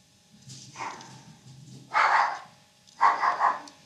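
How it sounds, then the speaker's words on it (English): A dog barks indoors in three short bursts, about a second apart. The barks are moderately loud and the background is otherwise quiet. "That's the dog."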